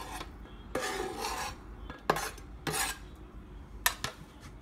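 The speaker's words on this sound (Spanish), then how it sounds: "Agregamos el huevo ya picado junto con la papa" Chopped hard-boiled egg added to diced potatoes in a bowl for a potato and beet salad, heard as a few soft scraping, clinking utensil strokes against the container, quiet and close with no talking.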